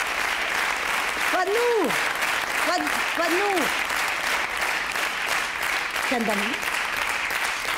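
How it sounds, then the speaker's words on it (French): A theatre audience claps steadily and loudly through a live comedy sketch by the character Mado la Niçoise in 2011, with the performer talking over the dense, continuous applause. "les gens comme ils applaudissent, mais c'est pour moi"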